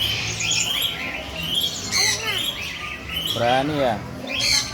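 Birds being fed at Suraloka in Yogyakarta give harsh squawks and chirps, loud and close, bursting out between stretches of a child's and an adult's talk.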